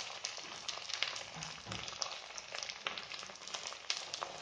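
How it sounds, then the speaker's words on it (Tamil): Steady, crackling sizzle of onions frying in hot oil, continuous and fairly soft, with no voices. "அந்த வெங்காயத்தை போட்டுக்கலாம். கொட்டி இது நல்லா வதக்கலாங்க."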